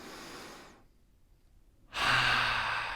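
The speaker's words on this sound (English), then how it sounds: "Take a deep inhale." A slow, audible breath is let out, followed by a pause and then a deep, fairly close inhale during a breathwork exercise.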